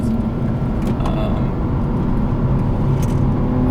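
A modified 2015 BMW M235i engine drones loudly and steadily from inside the cabin while driven fast through corners, with constant road roar and a few faint higher whines.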